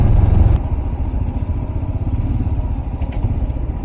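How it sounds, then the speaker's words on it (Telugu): Motorbikes on a Republic Day group ride roll past on a sunny road, a steady low engine rumble with clattering mechanical noise, fairly close and continuous throughout. "ఇక్కడ ఆల్రెడీ వేరే బైక్ వస్తున్నారు కదా"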